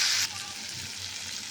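Tomatoes are sautéed with red chilli powder in a pan, opening on a sharp burst of sizzle as they hit the oil, then settling into a softer steady frying hiss.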